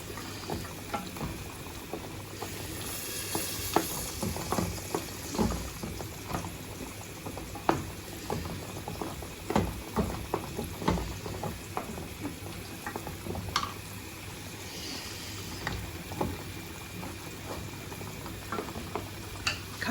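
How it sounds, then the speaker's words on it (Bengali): Dal bhuna with small tomatoes and green chilies cooking in a pan, a steady close sizzle and bubbling with frequent stirring scrapes and clinks throughout, no voices. "ডাল ভুনোটা প্রায় হয়ে গেছে সাথে আমি ছোট ছোট তিনটে টমেটো দিচ্ছি আর কাঁচামরিচ"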